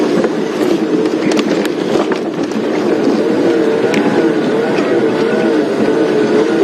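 A safari vehicle on a morning game drive pulling away near a leopard and her cub, its engine rumbling loud and close with rattles and bumps over rough ground throughout.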